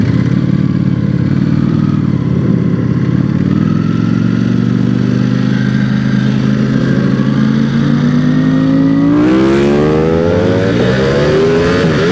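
A Ducati motorcycle engine revving loud and close, with a steady idle that climbs into a rising rev toward the end.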